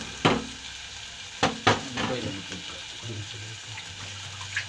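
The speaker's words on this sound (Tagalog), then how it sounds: "Ganun na siya ng sibuyas, kamatis, bawang, luya. Nagisa." Onion, tomato, garlic and ginger sautéing in a pan, a low sizzle broken by a few sharp clatters of stirring against the pan, close and fairly loud.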